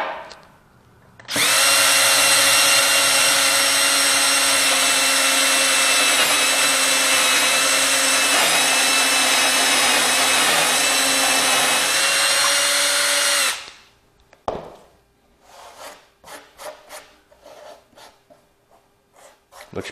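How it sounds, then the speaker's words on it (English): A loud power drill whirs steadily for about twelve seconds, pitch dipping slightly as it bites into wood, then stops, followed by scattered light clatter. "So I'm going to go ahead and drill again."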